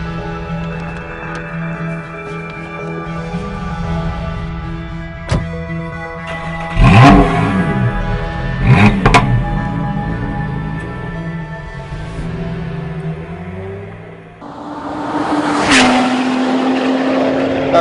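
Lotus Exige S sports car lapping the Hethel test track, heard from on board as a loud, sustained engine drone that rises and falls through gear changes, with sharp bursts of revving and a brief dip before climbing again.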